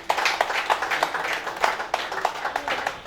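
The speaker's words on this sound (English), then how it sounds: "Let's give you a full round of applause." Clapping from attendees at an association's annual general meeting in Nigeria, a brief rhythmic burst of fairly close hand claps lasting about three seconds.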